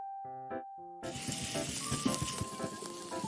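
A spoonful of minced garlic hits hot cooking oil in a pan and bursts into a crackling sizzle that keeps popping, after a few short electronic beeps from the stove.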